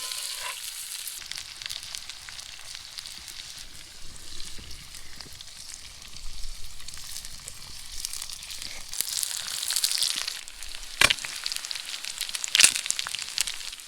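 Fish sizzles in a pan over a campfire with garlic, cilantro and lime, a steady close frying hiss with occasional stirring scrapes and sharp clicks near the end, no talking.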